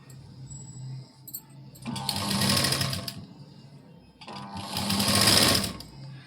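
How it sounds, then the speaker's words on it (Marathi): Sewing machine stitching a blouse sleeve onto the bodice, starting from the centre, in two loud bursts of rapid stitching separated by a short pause, close up with faint handling sounds between runs. "सेंटरला शिलाई दिल्यानंतर आपण बाही जोडून घेत आहोत"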